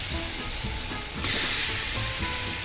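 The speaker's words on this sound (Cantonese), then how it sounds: "出緊煙啦隻鑊，我哋就可以放扒落去。" Steak sizzles in a smoking-hot wok wiped with a thin film of oil, a close, steady hiss that swells louder partway through as the meat settles in, with no talking.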